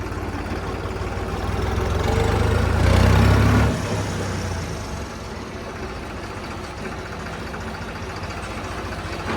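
A tractor engine idles nearby with a steady, low diesel rumble that swells briefly before settling back to an even throb.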